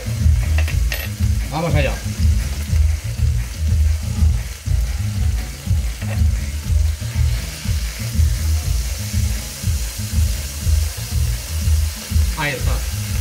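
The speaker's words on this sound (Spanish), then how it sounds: "El solomillo, ¿veis? Lo hemos puesto al fuego. Hay que dorarlo" A beef tenderloin, salted and peppered, sears in a pan with a steady sizzle, heard under a low rhythmic background and brief speech.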